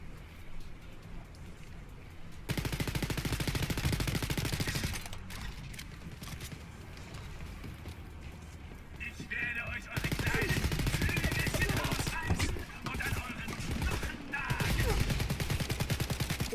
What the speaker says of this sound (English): Is he shooting me through solid metal walls?